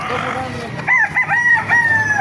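Chickens cluck and a rooster gives a short crow nearby at a market, with faint voices in the background.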